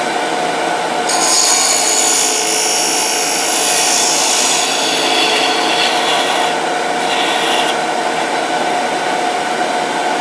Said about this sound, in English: You can do a facing cut without getting any run back.